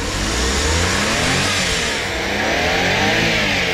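A Mazda Scrum Wagon minivan engine revs loudly up and holds high, a continuous close roar without any talking.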